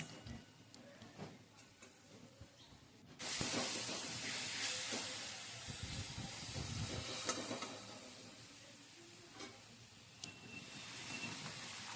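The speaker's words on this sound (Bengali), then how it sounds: "আমি মশলাটাকে কষিয়ে নিচ্ছি" Spiced masala paste sautéing in a pan for a vegetarian papaya dalna, a steady broadband sizzle and hiss that starts abruptly a few seconds in and carries on loud and close, with faint clinks before it.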